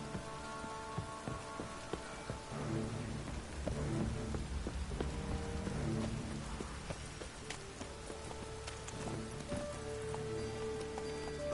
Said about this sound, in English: Rain, I like rain.